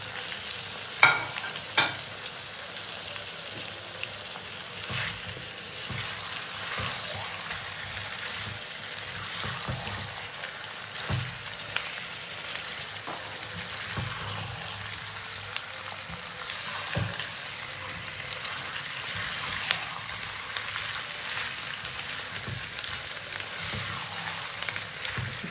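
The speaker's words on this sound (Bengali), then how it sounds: "চিকেনটাকে আমি নেড়ে চেড়ে খানিকক্ষণ কষে নেব।" Chicken and onions are stir-fried in a pan, giving a continuous close sizzle with frequent scraping and stirring knocks throughout, no voices.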